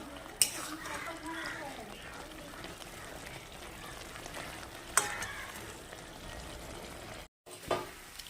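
Taro leaves (kochu shak) fry down in a pan with a soft, low crackling sizzle, a few sharp clinks marking the stirring and a voice faintly present in the background.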